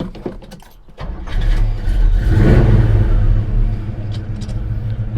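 A 1971 Chevrolet Nova SS350 V8 cold-starting: a brief crank after a quiet moment, then the engine catches and revs up loudly to a rumbling peak before settling into a rough, throaty idle, recorded close by.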